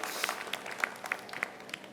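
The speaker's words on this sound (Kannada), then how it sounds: "ಅವ್ರಿಗೊಂದು ಚಪ್ಪಾಳೆ" An audience applauds with a steady patter of many hands clapping, fairly faint and even throughout.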